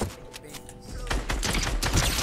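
Fortnite gunfire crackles in quick, dense shots over game noise, close and fairly loud across a short burst.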